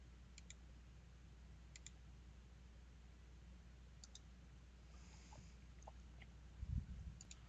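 Light computer mouse clicks, left and right buttons, tap out in a few quick pairs during a software demonstration, faint and close over a steady background hum.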